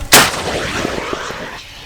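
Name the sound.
mounted anti-tank grenade launcher firing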